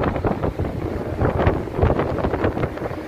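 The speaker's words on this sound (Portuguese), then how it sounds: "Deixa eu passar por essa turbulência, muito vento." Strong wind buffets the microphone outdoors at a small plant and craft fair, a continuous loud rumbling roar with gusty fluctuations and no speech.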